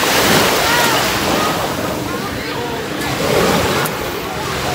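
Surf rolling onto the shore at Tiquiano's Beach Resort, a steady broadband wash of waves with wind buffeting the microphone, continuous and fairly loud, with faint voices in the background.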